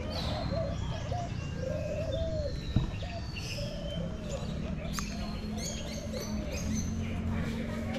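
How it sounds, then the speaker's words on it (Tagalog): Birds calling in a quiet eco park: soft repeated cooing of doves with scattered chirps and tweets over a low, steady background hum, fairly distant and gentle throughout. "Tahimik ng lugar, tapos maririnig mo mga huni ng ibon."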